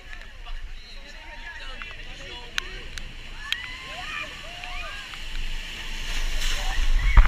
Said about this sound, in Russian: когда их сбила огромная волна